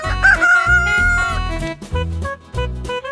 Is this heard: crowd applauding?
no